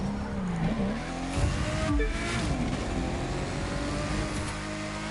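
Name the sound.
race car driving at night in The Crew 2 video game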